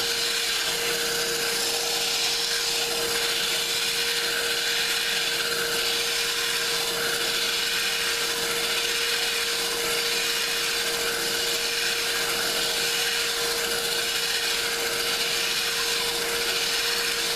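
Sandpaper rubs against a cork rod grip spinning on a lathe, a steady continuous abrasive hiss with a constant motor hum underneath, close and fairly loud throughout with no talking.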